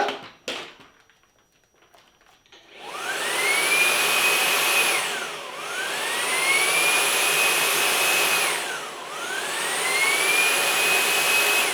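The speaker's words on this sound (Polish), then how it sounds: "I odkurzacz opróżnił kosz do worka kurzowego." A robot vacuum cleaner's docking station emptying its bin into the dust bag: after a few faint clicks, a loud close suction roar starts and swells in repeated rising whooshing cycles, dipping between each surge.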